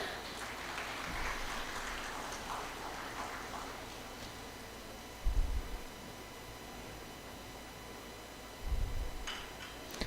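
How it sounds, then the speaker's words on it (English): An audience at a formal felicitation event claps a broad, continuous round of applause for a guest speaker, moderately quiet, with a couple of dull low thumps partway through. "Please join me in extending a huge round of applause."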